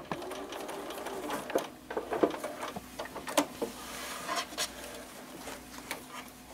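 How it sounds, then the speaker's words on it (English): A sewing machine stitches quilt binding with white thread, a quiet, close, rapid mechanical patter with short bursts and brief pauses as the fabric is fed. "And we're going to sew it together."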